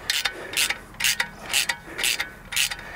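Bolts being tightened on a garden hose reel mount with a ratchet, six quick rhythmic clicking pulls, close and clear.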